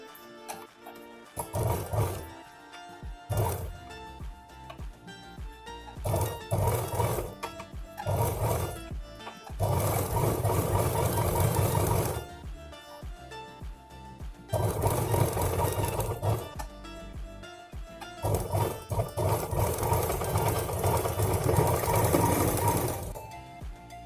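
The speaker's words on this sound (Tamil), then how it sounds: "இங்கேருந்து அப்படியே அடித்து இங்கேருந்து இது வரைக்கும் ஒரு தையல், ஒரு படிமான தையல்" Sewing machine stitching a handbag made from blouse fabric, running in loud bursts separated by short pauses, with rapid mechanical chatter throughout and no talk.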